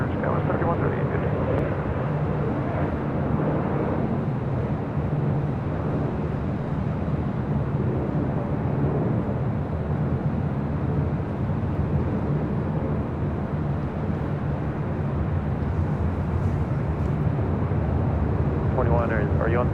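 A Boeing 737-700 passenger jet roars steadily at LAX, a loud continuous engine rumble filling the whole stretch while voices talk faintly underneath.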